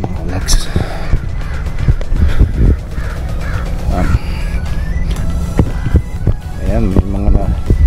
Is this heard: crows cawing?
yes